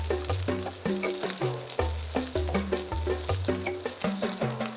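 Steak fat pressed against a pan of hot avocado oil, a steady close sizzle and crackle that runs continuously under a strong rhythmic music track.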